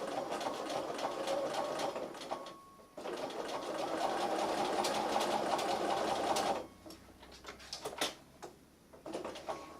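A sewing machine stitches along a curve in bursts, running steadily for several seconds, pausing briefly, then resuming in shorter stop-start runs with quiet handling sounds between, close and without talk.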